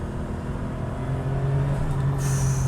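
A 1993 RUF BTR2 sports car engine holds a steady, close low rumble that swells slightly as a small dab of throttle is added toward the end.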